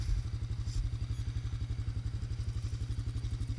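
A Honda CRF250F dirt bike engine with stock exhaust idles with a steady, rapid thumping pulse, fairly close and moderately loud, with no talking over it.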